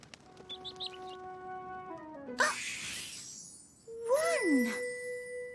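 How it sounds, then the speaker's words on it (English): A cartoon bird chirps in clear whistled notes, then a brief noisy flutter, then a swooping rise-and-fall whistle, all close and alone against faint background. "One bird. Hello,"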